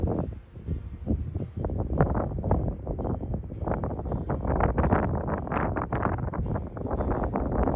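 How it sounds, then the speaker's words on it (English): Strong wind buffets an outdoor microphone during a spring turkey bow hunt on public land, a continuous low roaring rumble with gusty surges and no voices. "It's just too dang windy."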